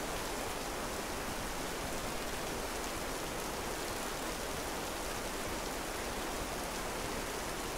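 Rain falls steadily in a video game, a constant, even hiss of downpour from start to finish with no voices, moderately quiet and unchanging.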